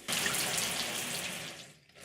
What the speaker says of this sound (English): Can you turn the shower off, dear?